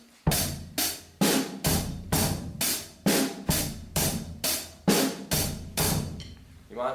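A simple, restrained church drum rhythm on a drum kit: regular strong hits about twice a second, each with a crashing decay, played alone and close.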